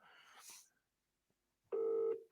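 A telephone rings back once after a call is dialed: a short, loud, steady ring tone cuts in after a faint stretch of earlier noise and a pause of near silence.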